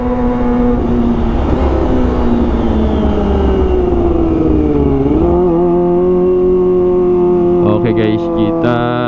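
A Kawasaki ZX25R motorcycle fitted with an Arrow Pro Race exhaust idles and warms up close by, a loud continuous engine drone that rises slightly, dips, then settles at a steady pitch.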